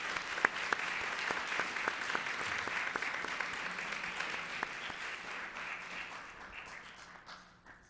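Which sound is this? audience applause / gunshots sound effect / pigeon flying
audience applause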